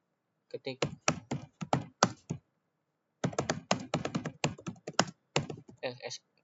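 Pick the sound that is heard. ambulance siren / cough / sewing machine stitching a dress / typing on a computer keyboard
typing on a computer keyboard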